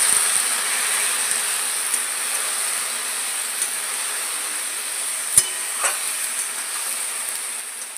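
Jujube with turmeric and salt in hot oil gives a soft, steady sizzle under occasional faint scrapes and one sharp knock of the stirring utensil against the pan.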